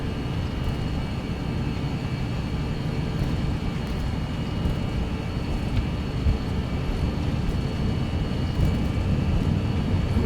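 Airliner jet engines at takeoff power in the Prepar3D flight simulator, a loud, steady broadband roar that holds evenly from start to finish with no talk over it.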